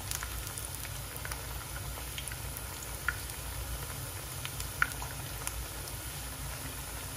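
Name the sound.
plantains frying in oil as they are flipped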